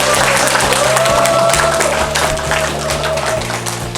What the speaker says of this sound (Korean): 열렬한 박수로 모시겠습니다.